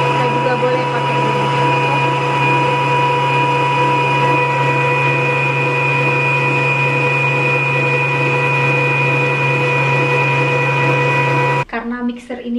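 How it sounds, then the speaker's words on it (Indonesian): An electric stand mixer beats sugar, eggs and butter with a steady, loud motor whine that holds without a break for about twelve seconds, then cuts off abruptly. "mixer ini kekuatannya ekstra, jadi saya untuk hanya mengocok gula, telur, dan butter ini cukup 2 menit saja"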